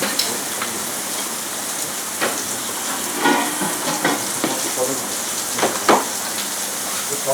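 Meat sizzles and spatters in a hot pan, a steady dense crackle with occasional louder pops, close and continuous with no talking.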